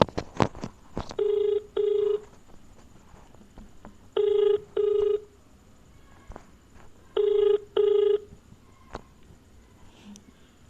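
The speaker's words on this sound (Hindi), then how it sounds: "और एक शिरीन है, उससे फ़ोन करके पूछते हैं।" A phone call goes out: a few dial clicks, then three pairs of double ringback tones spaced evenly a few seconds apart, heard through the handset over a faint background.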